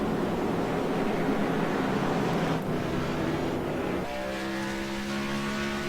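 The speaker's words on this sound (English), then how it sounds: "The Menard Chevrolet, boy, it sounds to me like you can't even hardly get it out of third gear." A damaged Menard Chevrolet race car, apparently stuck in third gear, drones with a steady engine note under wind and crowd noise; partway through the pitch climbs into a sustained higher whine as it pulls off pit road.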